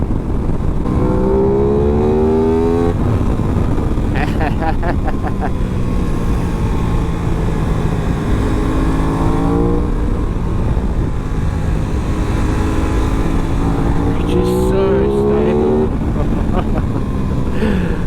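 An Aprilia RS 660 sport motorcycle engine revs through gears while riding, pitch climbing and dropping repeatedly under steady wind noise, close and loud.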